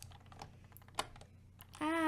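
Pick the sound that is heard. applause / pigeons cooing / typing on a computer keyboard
typing on a computer keyboard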